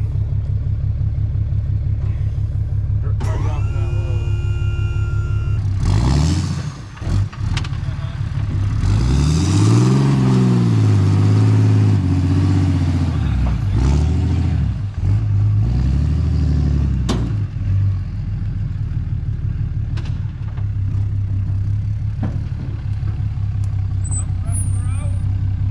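A truck engine runs steadily near a backwoods cabin site during land clearing, revving hard in a few loud surges and then settling back to idle, with some clatter.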